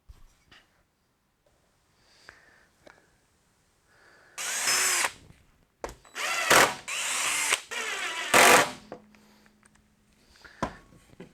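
A power drill drives screws into brackets fixed to 4-inch PVC pipe, with several loud whirring bursts of a second or so separated by pauses, close by.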